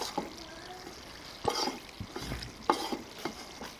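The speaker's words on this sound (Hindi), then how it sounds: "अब गंदम के आटे की भुनाई अच्छे से करनी है, आग का फ्लेम दरमियाना रखना है" Wheat flour roasting in a pan over a medium flame while someone stirs it, producing soft, quiet scraping strokes with a faint sizzle and a few sharper stirring sounds spaced apart.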